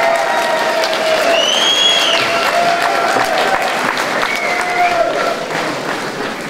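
Sustained audience applause at a political evening in Nitra welcoming the Most-Híd party chairman, Béla Bugár, a dense steady clapping from a crowd lasting throughout with faint cheering and voices mixed in.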